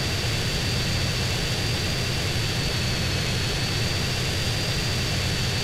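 Airplane engine in the video game GTA San Andreas, a loud, steady jet roar with a constant high whine that holds unbroken throughout and drowns out everything else.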